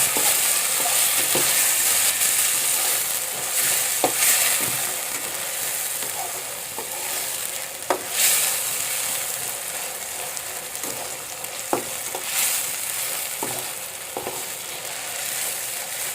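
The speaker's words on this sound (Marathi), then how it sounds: "तर आपला टोमॅटो पण अशा प्रकारे फ्राय करून झालेला आहे" Tomatoes stir-fried in a pan while Maggi noodles are cooked at home in a village, giving a loud continuous sizzle with regular scraping and clacking strokes of a spatula throughout.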